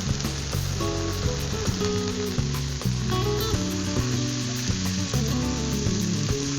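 Bottle gourd greens stir-fried in a pan for a vegetarian dish, with a steady close sizzle and occasional scraping stirs running throughout, over a constant low hum and no talking.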